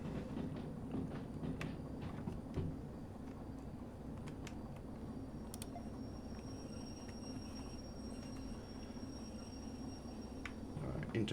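A locomotive rolls on rails in the Derail Valley train simulator, a steady low rumble with faint clicks and squeaks running continuously at a moderate level, with no talk over it.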